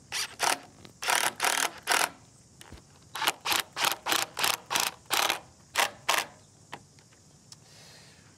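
A cordless drill or driver drives screws into the hinges of a wooden gate. It comes as a close, loud run of short ratcheting bursts in quick succession, then tails off into a few sparse clicks.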